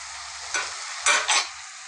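Bottle gourd and chana curry being stirred in a pan, a few scraping strokes with a soft sizzle beneath, close and alone.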